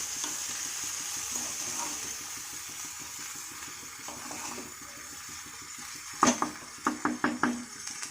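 Thick-cut cabbage for a vegetarian dish sizzles steadily in a pan. Near the end it is stirred, and a quick series of loud scraping, clattering strokes rises over the frying.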